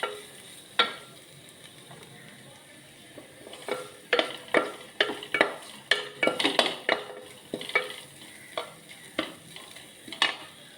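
Grated coconut and crushed chilli stirred and frying in a pan, a soft steady sizzle under repeated sharp scraping and clinking strokes of a spoon against the metal, close and alone.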